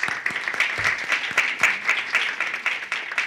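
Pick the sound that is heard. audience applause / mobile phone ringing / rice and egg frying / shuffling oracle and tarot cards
audience applause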